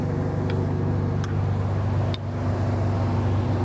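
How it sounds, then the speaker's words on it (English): An Onan 7K gas generator powering a gooseneck horse trailer drones as a steady, loud low hum, with a few faint clicks over the constant engine tone and no talking. "we do have that Onan gas, I believe it's a 7K generator, running this whole trailer right now"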